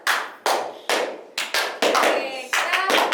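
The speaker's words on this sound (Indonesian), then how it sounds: "boleh tepuk tangan teman-teman semua" Small group of students clapping on a school podcast for an OSIS student council president candidate, hand claps in short repeated bursts with quick rhythm, close and fairly loud, no talk over them.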